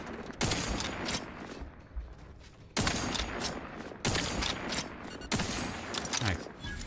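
Rapid automatic gunfire in a space shooter video game, fired at a creature in four sustained bursts separated by short gaps, loud and close with no talking over it.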